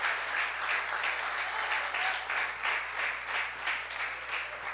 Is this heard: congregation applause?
yes